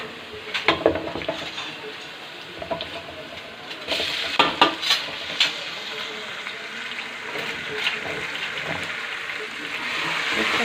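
Ginger garlic paste fries with browned onions in a pan, a soft steady sizzle under scattered scraping and clinks of a spoon stirring against the metal, fairly quiet and close.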